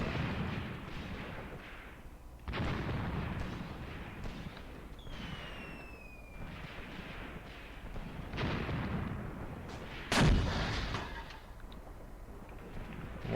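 Mortar fire in the World War II tactics game Graviteam Tactics, set around Kharkov in 1942, lands as several heavy booms spread over the stretch, the sharpest one near the end, over a low rumbling battlefield background.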